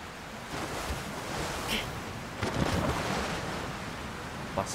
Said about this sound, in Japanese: 滝かこれ。